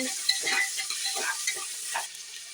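Potatoes for a vegetarian chana curry fry in hot oil, giving a soft, continuous sizzle with light stirring scrapes, close and fairly quiet.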